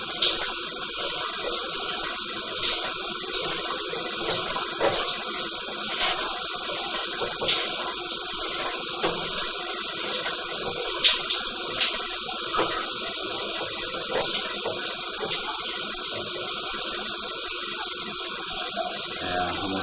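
Water rushes steadily around a sewer scope camera submerged inside an underwater sewer pipe, a constant close hiss and gurgle running unbroken throughout.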